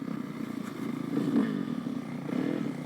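An off-road motorcycle rides an ORV trail at Old State House in Oscoda, Michigan, its engine droning steadily at moderate distance with slight swells in revs and some rattling, with no talk.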